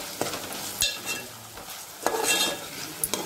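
Onion and tomato sauté in a pan for a spiced potato, pea and drumstick vegetable curry, with a sizzling hiss and a few sharp scraping stirs of a spoon, close and moderately loud.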